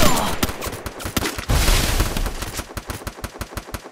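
Rapid video-game gunfire, loud and close, with dense bursts of automatic shots early on that thin into a steady rhythm of single sharp reports toward the end.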